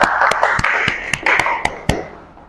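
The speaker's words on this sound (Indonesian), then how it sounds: "Tepuk tangan" Classroom applause for students after their group presentation in an automotive engineering teacher-training lesson, heard as a run of sharp, irregular claps over a dense wash of clapping, fading toward the end.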